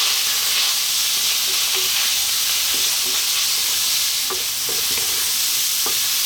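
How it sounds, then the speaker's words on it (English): Steak frying in a pan over high heat gives a loud, steady broadband sizzle throughout, with occasional faint clicks of the meat being tossed around, no voices. "staying on a high heat. We're going to throw this around in the pan for 4 to 5 minutes."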